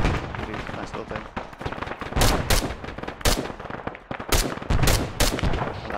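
Gunfire in the military video game Arma 3: repeated loud shots and bursts crack through the mix, with several sharp reports clustered toward the middle and end over a dense, busy background.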